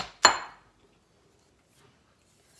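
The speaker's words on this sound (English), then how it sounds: "let me get a bowl to mix this in" A mixing bowl is set down with a single sharp clink on a kitchen counter, followed by near silence and a faint tap at the end.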